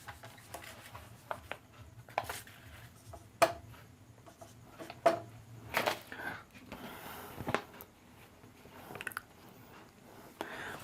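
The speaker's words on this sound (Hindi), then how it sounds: "हम क्वेश्चंस बोर्ड पे लिखते हैं।" Marker or chalk writing on a classroom board during a maths lesson, a run of short scratchy strokes and taps at close range with no talk over it.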